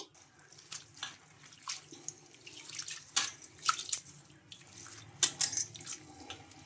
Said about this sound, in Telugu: వీటిని రెండుసార్లు శుభ్రంగా వాష్ చేసుకోవాలి